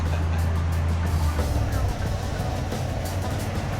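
A 1984 Chevrolet Caprice wagon cruising down the road, its steady low engine and road rumble droning throughout while people talk inside the car.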